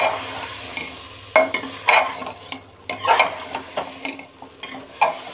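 Jackfruit curry with spices being stirred in a pan, with a steady sizzle and repeated scraping, clattering strokes of a spoon against the pan, close and fairly loud.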